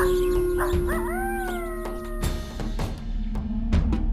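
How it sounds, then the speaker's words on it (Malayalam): A cartoon fox in an animated children's story gives a loud, rising howl that slides up and holds, followed by sharp thuds and clattering effects over a steady low hum. "കുറുക്കൻ്റെ ഉച്ചത്തിലുള്ള കരച്ചിൽ കേട്ടു"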